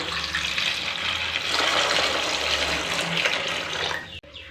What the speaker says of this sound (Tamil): இது மூழ்கிற அளவு தண்ணி சேர்த்துக்கலாம்